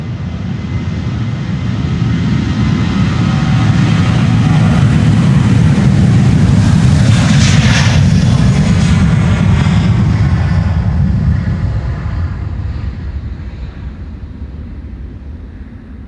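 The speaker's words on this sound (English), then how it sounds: "KLM 747 freighter going to Miami" A KLM Boeing 747 freighter roars down runway 36L at Amsterdam Schiphol on takeoff, a loud, broad engine rumble that swells steadily, peaks midway and then slowly recedes as it climbs away.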